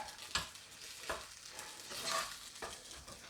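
A spoon scrapes and stirs choux dough for cheese gougères in a hot pan to dry it, giving rhythmic, close scraping strokes about every half second over a soft sizzle.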